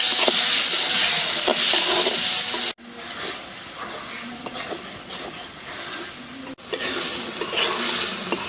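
Fish stir-fried in a pan for a Bengali home-style dish, with loud sizzling and repeated spatula scrapes against the metal, broken by two abrupt drops to quieter frying, no speech.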